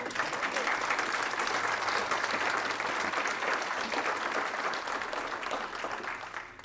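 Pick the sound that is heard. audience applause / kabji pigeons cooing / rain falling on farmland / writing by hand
audience applause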